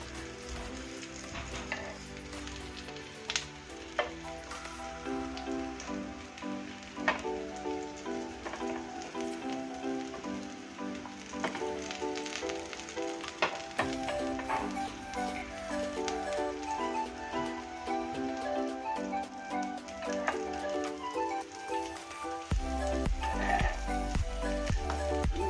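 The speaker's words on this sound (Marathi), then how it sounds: "पॅटीस एका साइडने पूर्ण ब्राऊन होऊ देऊया." Ragda patties fry in a pan until browned, giving off a soft, steady sizzle with scattered crackles and pops that sound like light rain, and faint background music plays along.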